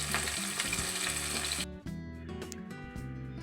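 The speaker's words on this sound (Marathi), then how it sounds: "आता आपण मिरची आणि कांदा घेतलेला आहे तो टाकू आणि तेलामध्ये भाजून द्यायचं" Chilli and onion dropped into hot oil sizzle loudly up close, a bright crackling hiss that suddenly settles into a quieter, duller frying sound with light stirring knocks.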